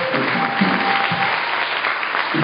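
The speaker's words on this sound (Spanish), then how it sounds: "que le diéramos un aplauso a Dios y al cielo" A church congregation applauds God during a Spanish-language service, a dense, steady round of clapping that fills the room evenly for a couple of seconds.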